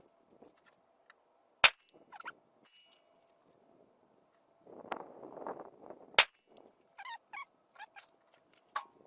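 A Desert Tech MDR bullpup rifle in 6.5 Creedmoor fires two sharp, loud single shots several seconds apart outdoors, each a hard crack with a brief echo, among quiet background noise, faint birdsong and short bursts of handling.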